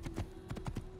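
Horse hooves galloping in the Assassin's Creed video game, a steady run of clip-clop beats at an even rhythm with a constant tonal hum beneath, moderately loud and close.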